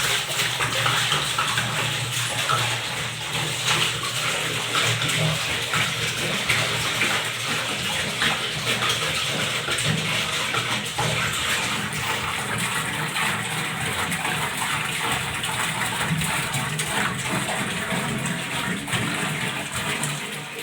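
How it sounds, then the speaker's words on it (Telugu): Water pours steadily and loudly into an aquarium fish tank, a continuous gushing splash that holds even for about twenty seconds with no talk over it. "ఇందులోకి మనము ఆక్వా వాటరే పోసేసుకోవాలండి"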